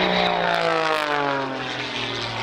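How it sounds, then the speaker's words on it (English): A powerful propeller biplane at the RAF Cosford airshow roars steadily and loudly overhead. Its engine tone slides gradually lower as it hangs near a stall in aerobatic manoeuvres, with no voices over it. "He does a thing in this biplane, using this very enhanced propeller and then very powerful engine."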